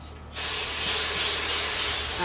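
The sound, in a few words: spray bottle spraying water onto painted paper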